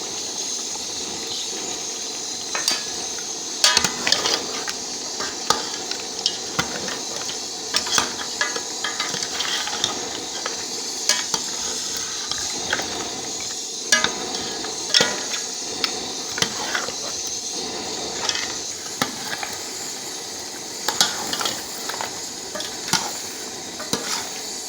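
Goat trotters being stirred and fried with spices in a pot, a steady sizzle and hiss with repeated scraping and clacking stirring strokes throughout, no talk.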